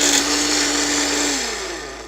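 A blender whirs loudly through a mango margarita, a steady high motor whine that gradually drops in pitch and fades as it winds down.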